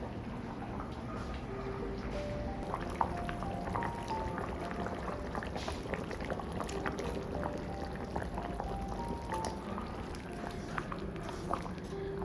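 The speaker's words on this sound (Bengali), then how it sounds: "আর একটু ফুটিয়ে নেব বড়ি দিয়ে নিরামিষ ঝোল" Bengali vegetable curry with bori simmering in a pot: a continuous, soft bubbling and sizzling texture with faint pops, steady and close throughout with no speech.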